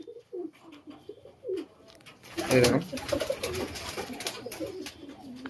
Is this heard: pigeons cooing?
yes